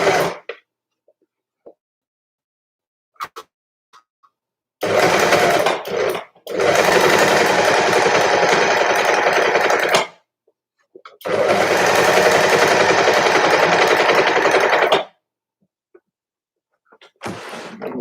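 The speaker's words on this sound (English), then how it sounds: "But I am just going to overlock it now." An overlocker stitches the hemband of a sweater in two long, loud, steady whirring bursts of about five seconds each. A brief blip comes before them, and short quiet pauses separate the runs.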